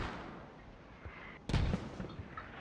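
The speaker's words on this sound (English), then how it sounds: "More mortars coming in." A mortar round lands in the military shooter Squad with a sudden low boom partway through, followed by a rumbling tail and faint distant thuds, over quiet ambient background.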